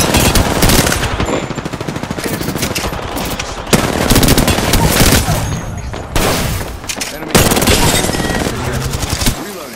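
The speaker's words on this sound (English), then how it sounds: "A second squad is firing at us." Rapid automatic gunfire from an enemy squad in Apex Legends, loud and sustained in dense bursts with brief gaps, some voices mixed in underneath.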